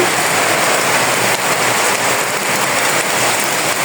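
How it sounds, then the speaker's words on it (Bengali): Steady rain pours down outdoors beside an open-air cooking area, a dense, even hiss of drops drumming on surfaces that holds for the whole stretch with no voices. "এই পাশে দেখুন বৃষ্টি হচ্ছে"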